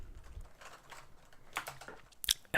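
Fingers type a short burst on a mechanical switch keyboard, with soft clustered key clacks close to the microphone and a couple of sharper strikes at the end, with no other sound.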